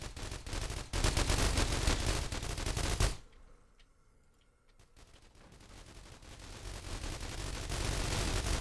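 Turrets in The Walking Trade fire continuously in dense automatic bursts, a loud rattling barrage that cuts out briefly in the middle and then gradually swells back to full intensity.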